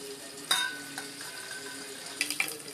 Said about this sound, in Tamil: கடுகு நல்லா பொரிஞ்சிச்சு